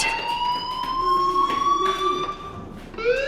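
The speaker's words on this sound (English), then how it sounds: "Hey, do you hear that fire alarm?" Electronic school fire alarm in the video game Life Is Strange, a loud, repeating rising tone that wails steadily for the whole stretch.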